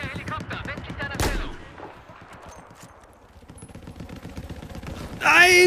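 Gunfire in the Battlefield 4 multiplayer shooter: a quick burst of shots up front, a loud blast, then quieter battlefield clatter with a sharp burst at the end.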